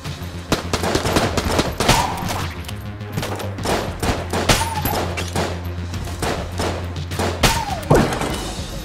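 Rapid gunfire in the video game Enter the Gungeon, bursts of sharp shots and thumps in an irregular rapid rhythm, loud and close, with no talk.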